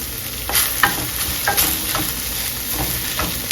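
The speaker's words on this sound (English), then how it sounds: "You mix it up until it's nicely incorporated." Tofu scramble sizzles steadily in a frying pan while a utensil stirs and scrapes through it in repeated strokes, close and clear with no talking.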